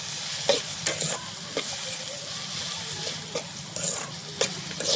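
Onions with turmeric and salt are stirred in a pan, a continuous bright sizzle with periodic scraping strokes of a spoon, close and alone without talk.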